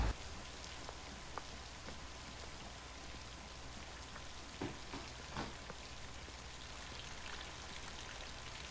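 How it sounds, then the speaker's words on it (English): Heavy rain pours on a dark, stormy night in the film Psycho, a steady, even hiss of falling water with a few faint knocks and no voices. "I'm sorry I didn't hear you in all this rain"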